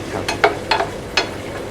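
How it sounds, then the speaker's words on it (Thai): Small diced bacon is stirred in hot rice bran oil in a pan, giving a soft sizzle broken by a few sharp scraping stirs, close and without talk. "ต่อไปจะเป็นเบคอนหั่นเต๋าชิ้นเล็กนะ เบคอนนะครับ ลงไปรวนกับน้ำมันรำข้าว"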